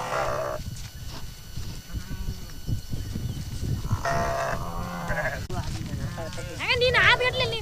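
Sheep bleat loudly and repeatedly while held down for an injection as people talk over the commotion, the cries growing sharper toward the end.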